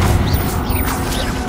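A Confringo blasting spell in the video game Hogwarts Legacy gives a short, dense crackling blast that roars continuously at steady loudness for a moment.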